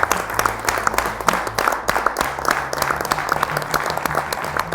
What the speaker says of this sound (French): je crois qu'on peut s'auto-applaudir